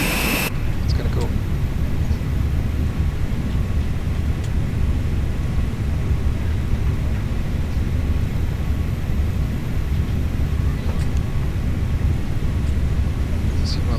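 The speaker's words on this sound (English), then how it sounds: "There's another plane. It's gonna go." Steady broadband airliner engine roar from Microsoft Flight Simulator at Charlotte airport (KCLT) after landing, continuous and fairly loud throughout with little change, another aircraft's engines blending into the constant drone.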